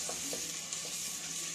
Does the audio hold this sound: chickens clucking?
no